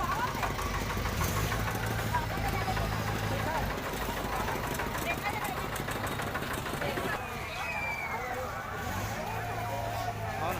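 A motorbike engine drives a sugarcane juice machine at a busy fair in Shivrinarayan, Chhattisgarh, its steady chugging loud and continuous amid crowd noise and background voices.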